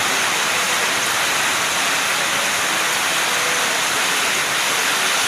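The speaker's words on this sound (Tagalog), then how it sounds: "Lakas ang ulan." Heavy rain pours down in a constant, loud hiss with no pauses, filling the whole clip.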